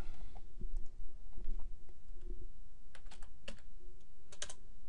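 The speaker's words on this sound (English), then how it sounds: "All with just a few keystrokes and a press of the enter key." Keystrokes clatter on a computer keyboard in irregular bursts, with a few heavier thumps early on and sharper clicks later, close by and without talk.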